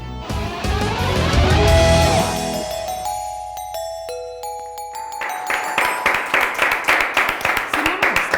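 Rhythmic clapping from a studio audience for the team coaches on a live Armenian TV show, Rock Football, arriving after a run of ringing chime tones and building into steady, fairly loud applause.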